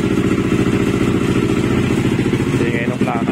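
A Yamaha NMAX 207cc scooter engine with the VVA deleted runs steadily at close range, a loud continuous rumble with a fast even pulse and a slight rise near the end.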